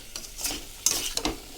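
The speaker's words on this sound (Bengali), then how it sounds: "এখন এটা ভালো করে কষিয়ে দেব" Vegetarian jackfruit curry with spices is stirred and sautéed in a pan, with a few brief scraping strokes over a faint sizzle in a short close-up burst.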